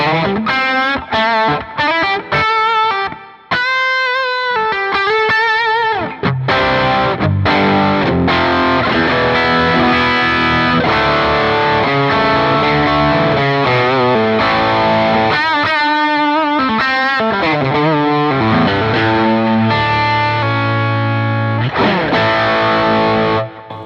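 Electric guitar played through an SD1 overdrive pedal, a mix of crunchy riffs, fast runs and ringing chords, loud and continuous with no talking.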